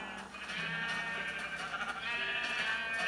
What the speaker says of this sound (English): There's so many sheep in this tiny little pen.